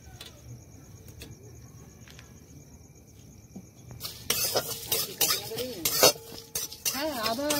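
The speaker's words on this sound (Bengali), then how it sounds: "দিয়ে শুকনো খোলায় ভেজে গুঁড়িয়ে নেবো।" Whole cumin, fennel and coriander seeds with three dried red chillies dry-roast in a pan. After a quiet stretch, a spoon scrapes and clatters against the pan in quick, uneven strokes, and a voice comes in briefly near the end.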